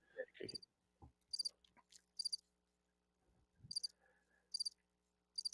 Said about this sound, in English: Oh, when we get crickets.